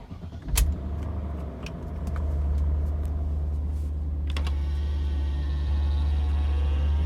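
A BMW E46 M3 with the MSS54HP engine and SMG gearbox cold-starts after sitting: a short starter whir, then a sharp catch and settling into a loud, steady low idle rumble with a few faint clicks.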